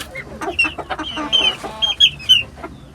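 Several İspenç chickens cluck close by, with a run of short, uneven clucks and squawks in quick succession over a few seconds.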